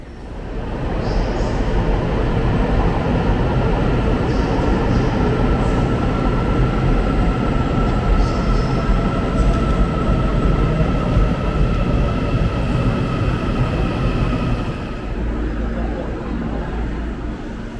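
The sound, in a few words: train pulling up to the platform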